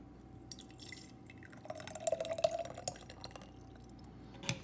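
Chia pudding mixture poured into jars, a quiet wet trickle with small drips and splashes building toward the end, close and soft against a faint room hush.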